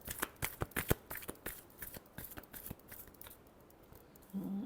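Tarot cards riffled and shuffled in quick crisp bursts up close, the rapid flutter thinning into softer slides before a brief voice at the end.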